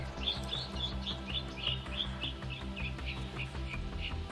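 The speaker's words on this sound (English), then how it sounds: "a park where hundreds of Canadian brown finches had gathered" Hundreds of Canadian brown finches gathered in a park chirp in a steady stream of short, bright calls, repeating roughly every third of a second over a dense background murmur.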